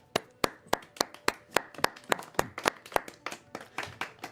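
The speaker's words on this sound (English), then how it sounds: "takes a deep bow as the crowd begins to clap" Carnival crowd clapping for a performer's bow in Trostenwald: sharp, evenly spaced claps in a steady rhythm, fairly close and moderate in level, roughly three or four per second with no voices.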